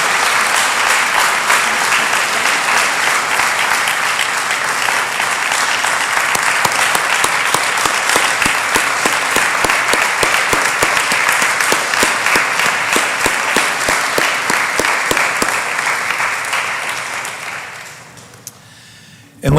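A town Board of Aldermen meeting audience claps loudly and steadily for nearly twenty seconds, individual claps growing more distinct before the applause fades out.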